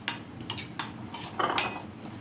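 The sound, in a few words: dry mixing ajwain and spices in a bowl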